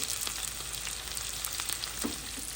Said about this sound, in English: Now hear that sizzle.